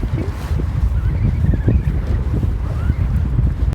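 Strong, gusty wind buffets the microphone with heavy low rumbling, thuds and roar. Faint thin tones drift in the background as the blustering continues without a break.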